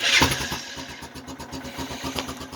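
A Honda ATV's small engine cranks and catches, then settles into a steady, rhythmic chug close by.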